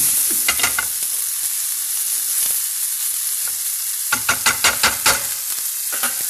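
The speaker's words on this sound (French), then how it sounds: "on ajoute les champignons. Donc là, on retourne bien, on laisse cuire, donc là on a feu vif." Potatoes and mushrooms fry on high heat for tartiflette, an even loud sizzle broken by bursts of scraping, clacking stir strokes in two clusters, close with no speech.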